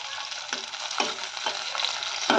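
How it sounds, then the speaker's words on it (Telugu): Green chillies fry in hot oil for Telugu pachi pulusu, giving a steady close sizzle and crackle broken by a few soft stirring knocks at regular intervals. "పచ్చిమిర్చి అయితే వేగుతున్నాయండి"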